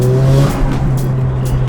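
A turbocharged car with a stock turbo and headers accelerates hard, a loud, close engine drone with a steady tone, some tire noise and gritty roar underneath.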